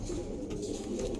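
Pet flying pigeons coo steadily, a low warbling murmur of several birds repeating close by and filling the brief stretch with no voices.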